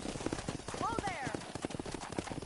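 Horse hooves clip-clop in a steady trot while herding cattle in the Red Dead Redemption video game, moderately close, with a brief whinny and a voice talking over the hoofbeats.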